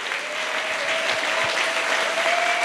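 Church congregation clapping steadily and loudly, a dense continuous wash of applause with a faint sustained tone running underneath.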